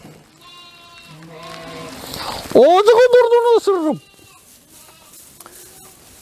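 A sheep gives one loud, close, wavering bleat lasting over a second, after a person speaks briefly beforehand, with quieter farm sounds around it.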